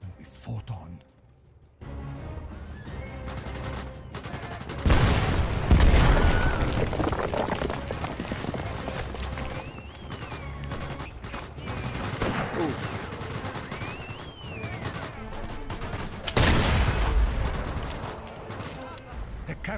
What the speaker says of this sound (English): Captured artillery destroyed the tank and bought us another chance.